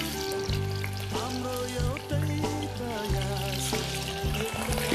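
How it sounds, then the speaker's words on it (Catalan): Rabbit meat fries in a pan on a lowered flame, a continuous sizzle with bursts of spitting and some clatter as the meat is moved about. "abaixo ja el foc, que es vagi fregint"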